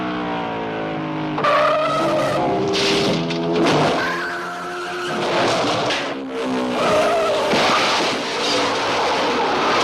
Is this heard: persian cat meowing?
no